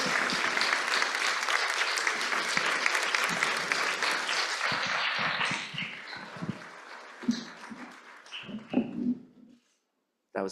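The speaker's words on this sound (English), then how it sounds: "I was hoping there would be applause" Audience applause at a university event on Indigenous belonging and rights, loud and dense at first, then thinning into scattered claps and a few voices before dying out into silence.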